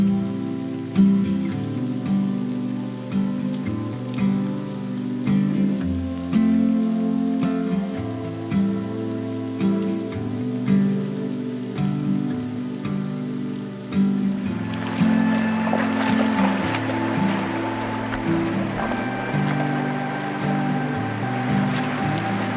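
Steady rain falling beside a river in British Columbia, a continuous wash of drops on surfaces with flowing water beneath, constant and moderately loud, no talking.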